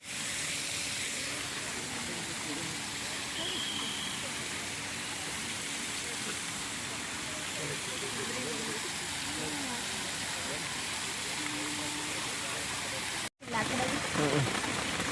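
Steady, soft hiss of light rain fills the space throughout, with faint voices murmuring beneath it and a brief dropout near the end.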